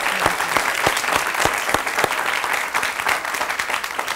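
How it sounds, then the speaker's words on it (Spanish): A studio audience on a Latina television interview program applauds a guest, dense sustained clapping with a few sharp nearby claps standing out, loud and continuous throughout. "Un aplauso para ella, por favor."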